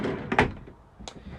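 A pull-out drawer in the kitchen of a 2022 Knaus Sport 500 FU caravan is opened, giving a quick sliding rumble and a soft knock, then a brief light clack a moment later, fairly close and quiet.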